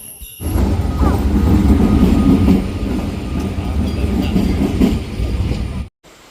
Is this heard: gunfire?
no